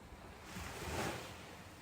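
Ocean waves lap softly against the shore at night. A gentle wash swells and recedes over a steady, airy surf rush, with no voices.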